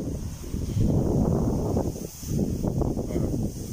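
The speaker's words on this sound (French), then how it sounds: "Vous voyez le son, le vent." Low wind gusts buffet the microphone with a continuous rumbling roar that rises and falls.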